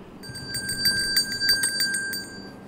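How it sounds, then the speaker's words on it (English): A bell rings in quick, bright repeated strikes, a metallic trill with ringing overtones, close and clear over a faint background for a few seconds. "Bell."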